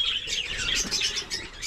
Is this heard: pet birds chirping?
yes